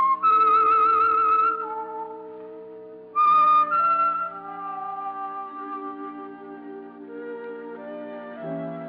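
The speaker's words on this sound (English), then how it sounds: "That whistle is your signal for the Signal Oil program, The Whistler." A whistled tune serving as the signal theme for the Signal Oil radio program The Whistler, a lone melodic whistle over orchestral music, with a brief pause before the whistling resumes and the music continues underneath.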